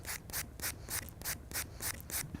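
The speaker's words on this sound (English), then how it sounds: "I just gonna buff one direction down" A nail buffer rubs over a dipping powder nail in quick, regular strokes, each a soft scratchy swish repeating about twice a second, close and quiet.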